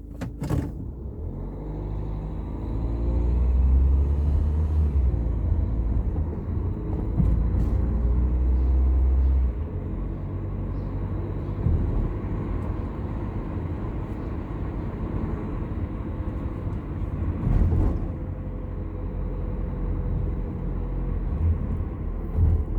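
A Crossland car cruises on a road trip to Kocaeli, heard from inside the cabin as a steady low road and engine rumble throughout, with no talking.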